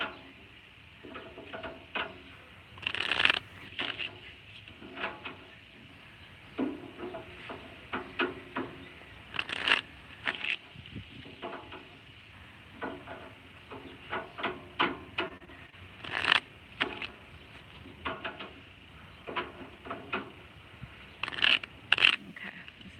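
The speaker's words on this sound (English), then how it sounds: "I'm just gonna be shuffling these" Tarot cards are shuffled over and over, soft papery scrapes and riffling snaps coming in bursts, with louder flicks every few seconds and no talking.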